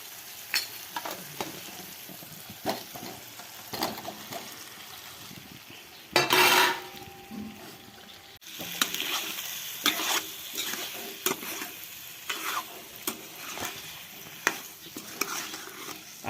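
Potatoes tossed into cooked masala with salt fry in a pan, with a loud burst of sizzle as they go in and then steady hissing broken by repeated spoon scrapes and clinks against the pan.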